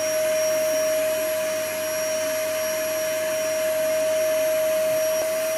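A vacuum cleaner runs close by with a steady, loud drone and a constant whine, held to someone's hair, with no talking over it.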